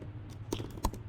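Quick taps on a computer keyboard while a log statement is typed, a handful of soft, close clicks in an uneven patter over a faint background hum.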